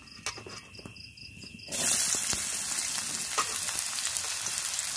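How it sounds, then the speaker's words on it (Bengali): Onion drops into hot oil in a wok. A quieter crackle with a few pops comes first, then the sizzle jumps to a loud, dense hiss that continues steadily. "এবার কড়ার মধ্যে দিয়ে দেবো কিছুটা তেল, দিয়ে প্রথমে আমি পেঁয়াজটাকে ভেজে নেব।"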